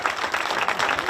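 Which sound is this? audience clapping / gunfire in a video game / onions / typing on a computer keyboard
audience clapping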